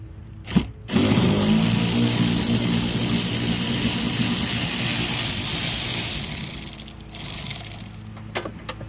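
A power ratchet whirs steadily for several seconds while backing out 10 mm bolts on a 1984 Corvette during fuel pump removal, close and loud, then tapers off with a few short clicks and knocks.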